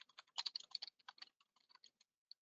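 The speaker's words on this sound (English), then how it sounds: "I'm typing them as we go" Brisk, irregular clicking of computer keys, quiet and close, in quick bursts with short pauses and no voices.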